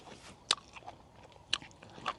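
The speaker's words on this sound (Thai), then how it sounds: "กรอบไม่กรอบเดี๋ยวสาธิตลูกนี้นะครับ" Crisp bites into a large, crunchy jujube fruit in an orchard, with two or three sharp crunches spaced about a second apart, close and fairly quiet, followed by soft chewing.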